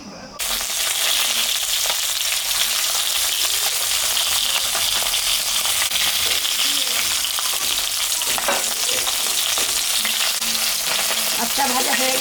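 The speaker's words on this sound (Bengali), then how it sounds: "মাছটা ভাজা হয়ে গেছে, আমি এখন তুলে নিই" Bata fish sizzles and fries in hot oil in a pan, a loud continuous crackling hiss held steady throughout with occasional faint stirring.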